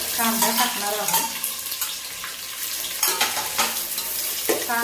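Onion sizzling as it fries in a pan for chicken biryani, a continuous hiss with intermittent stirring scrapes and light utensil clinks, heard up close.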